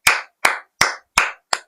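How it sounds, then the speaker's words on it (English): Five sharp hand claps land in a steady, evenly spaced rhythm, close and loud, with silence between each one and no voices. "All hand clap for the nannies."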